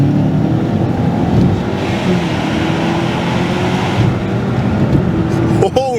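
An ex-police Holden Commodore ZB sedan accelerating hard, a loud steady engine drone heard from inside the car, with a voice briefly cutting in near the end.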